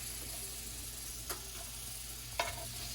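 Shrimp cooking in extra virgin oil with garlic give a faint, steady sizzle, with two brief sharp clicks as a utensil stirs them around the pan.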